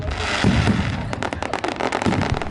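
Fireworks and firecrackers exploding, from sparklers to reloadable mortar shells, a dense, loud run of crackling pops and bursts that rattle on without a break.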